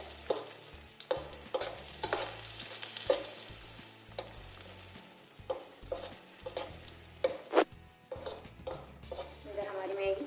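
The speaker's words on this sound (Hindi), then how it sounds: "इसमें तड़के के लिए मैंने डाली लाल मिर्च, हल्का फ्राई कर लेना" Red chillies fry in oil for a tadka for masala Maggi, with a soft sizzle beneath repeated clinks and scrapes of a spoon stirring against the pan.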